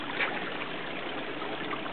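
Water rises through an artwork of stones and crystals and trickles over one of the stones. The flow is soft and steady with a faint, continuous babble, and nothing else is heard.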